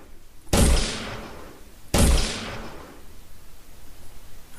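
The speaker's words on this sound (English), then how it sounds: "you can shoot the balls out the window" Two sharp, loud impacts about a second and a half apart, each decaying slowly, as balls are fired out a window in an Unreal Engine game demo; no talking.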